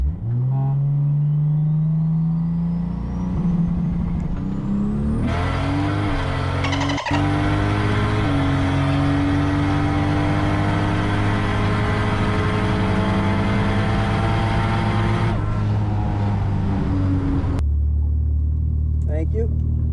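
Toyota Supra engine revving hard on a drag strip run, a loud continuous roar climbing through gears with rising pitch and sharp shift breaks, close and dominant, then dropping off abruptly near the end.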